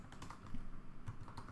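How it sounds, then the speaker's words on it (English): Fingers tap code on a computer keyboard in a short, quiet burst of irregular clicks and keystrokes, close and alone with no voices. "you're just typing in your code here"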